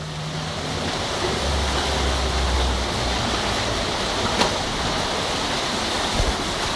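Floodwater rushes along Avenida Santa Teresa at night during a downpour, a steady, close, broadband roar of turbulent water with a few faint low rumbles and no talk.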